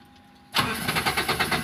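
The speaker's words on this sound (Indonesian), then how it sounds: "Kalau mesinnya saya nyalakan" A Nissan Espass car engine cranks and catches after half a second of quiet, then settles into a loud, close, pulsing idle.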